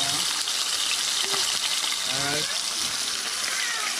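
A jack fish fries in a pot of hot oil, giving a steady, close sizzling hiss throughout while a voice murmurs briefly in the background.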